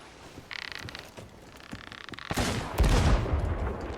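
Gunfire in the Sea of Thieves video game aboard a ship: a rattling mechanical burst, then heavy booming blasts growing louder toward the end, with creaking and wooden ship noise around it.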